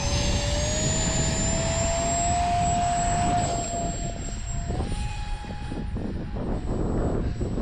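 A small 40-inch RC Dolphin jet with a 55 mm electric ducted fan on a 4S battery flies in gusty 18 mph wind, giving a continuous loud high-pitched whine that rises and shifts in pitch as it passes, with no talking.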